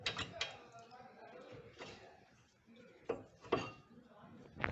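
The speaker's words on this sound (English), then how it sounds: "Spread out the brake pads with the screwdriver." Screwdriver prying apart the brake pads on a Fiat Linea caliper: a string of close metallic clicks, scrapes and clunks, bursts of tool-on-metal contact with quieter gaps between, no one speaking.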